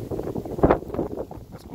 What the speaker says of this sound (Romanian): Ascultați și vânt.